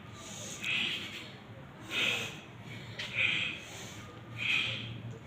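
Forceful nasal exhalations of bhastrika pranayama: four sharp, breathy snorts through the nose, spaced about a second apart, close and moderately loud over a faint room hum.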